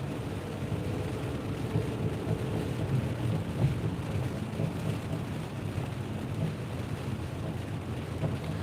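Rain falls on a car driving on a delivery run, a constant low rumble of road and engine noise under a steady hiss of rain, heard from inside the cabin without speech.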